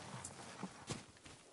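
Horse hooves clip-clop at a walk in the video game Ghost of Tsushima, a few spaced, fairly soft hoof strikes over a brief stretch.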